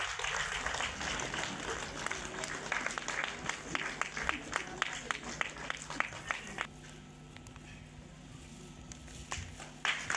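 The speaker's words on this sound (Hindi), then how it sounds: "तालियों में कंजूसी ना करें" Applause from an audience at a welcoming ceremony held at a school event, steady overlapping clapping for several seconds that thins toward the end, with faint voices underneath.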